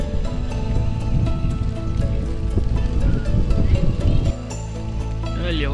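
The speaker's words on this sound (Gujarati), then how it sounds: "છાટા બહુ મોટા મોટા પડે છે." Heavy monsoon rain with big drops falls outside in a Gujarati village, a dense, steady patter on surfaces with faint regular tapping, continuous and fairly close.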